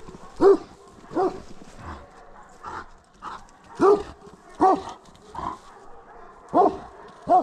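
A large Armenian Gampr dog barking outdoors, deep loud woofs repeated about once a second in a steady series, close and unaccompanied by talk.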